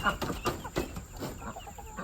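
Several chickens cluck close by in short bursts of clucks and throaty calls.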